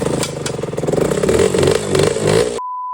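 A Suzuki RM125 two-stroke dirt bike engine revs up close by with a pulsing, rising buzz that climbs and wavers, then cuts off abruptly.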